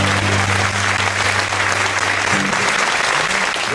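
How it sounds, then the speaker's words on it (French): A large comedy-show audience applauds loudly and steadily, a dense continuous wash of clapping with no pauses and no voices over it. "vous pouvez d'ores et déjà vous applaudir bien fort"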